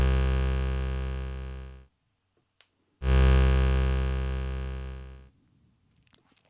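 Two loud, buzzy synthesizer notes, each shaped by an envelope, with a sharp attack and a gradual decay over about two seconds, separated by a short silence with faint clicks.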